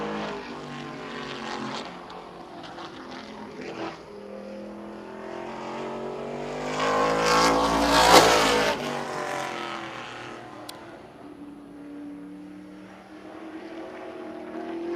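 A race car at Birch Run Speedway roars past, engine growling and swelling to a loud peak before fading back into the distance.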